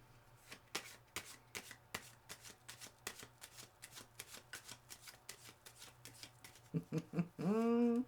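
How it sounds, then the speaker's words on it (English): Playing cards being shuffled in a series of crisp, rhythmic riffles close by, followed by a brief voice at the end. "I'm going to do a serious shuffle."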